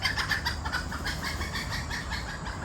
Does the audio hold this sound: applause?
no